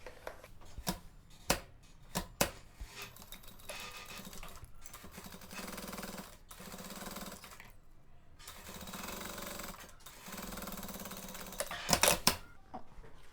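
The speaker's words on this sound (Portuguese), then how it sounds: "Agora eu vou vir aqui na máquina e vou fazer uma costurinha com um pé de máquina." A sewing machine runs a presser-foot seam on a zippered tote bag, stitching in several steady bursts broken by brief pauses, with a few sharp clicks and knocks of handling in between.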